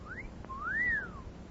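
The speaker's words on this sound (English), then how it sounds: "don't whistle" A person whistles in a radio drama, a short rising note followed by a longer, clear swooping whistle that rises and falls, heard alone over a quiet background.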